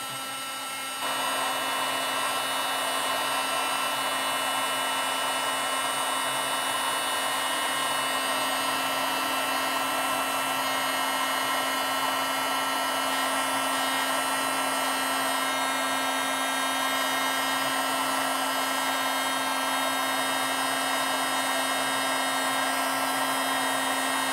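A heat gun blows hard and steady over a mixed media surface, a loud, close, continuous roar with a constant whine that starts abruptly and runs unbroken, no voices.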